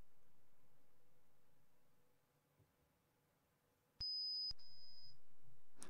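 Electronic beeps from the video game Emission: after a quiet, hissy lull, a sharp high beep sounds, then a second longer beep follows loudly, with no talking.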